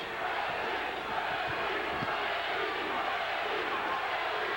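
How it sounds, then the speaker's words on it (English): Boxing fans at a Zab Judah versus Reggie Green fight chant loudly in unison for Reggie, a dense, steady crowd roar filling the arena without pause, rising slightly partway through. "In very loud fashion, the fans chanting in unison for Reggie"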